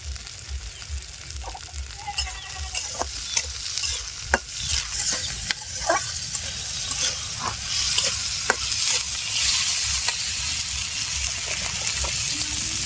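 Continuous sizzle of chilies frying in a pan, with frequent sharp clicks of a utensil stirring and scraping throughout.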